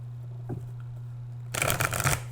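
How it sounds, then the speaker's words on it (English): A deck of tarot cards is shuffled close up in one brisk, rustling riffle after a quiet pause, alone and without speech. "I'm going to go ahead and shuffle your cards."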